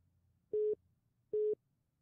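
A telephone busy signal after a dropped call gives two identical steady beeps, evenly spaced and clear against a faint background hum.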